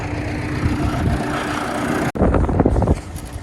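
Steady, loud wind buffeting the microphone in a field during crop sowing, a roaring rush broken by one brief dropout, then gusts continuing with faint rumbling underneath.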